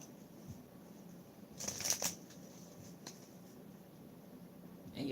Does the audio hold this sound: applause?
no